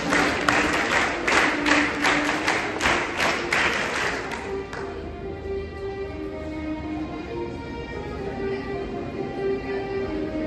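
Students at a school investiture ceremony perform a scout clap, a quick run of sharp synchronized claps for about four seconds, followed by a quieter room hum.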